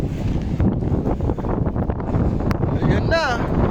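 Strong wind gusting at the seashore in Pagudpud, buffeting the microphone with a continuous roar while waves churn, voices talking over it and a brief high whistle near the end.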